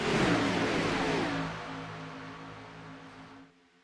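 A race car roars past at Daytona International Speedway, loud and close at first, then its engine note fades into a steady drone as it pulls away before dropping off.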